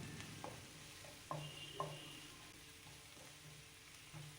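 Green chili and carrot sautéing in a pan, a faint steady sizzle with light intermittent scrapes and taps from stirring, close and quiet, no voices.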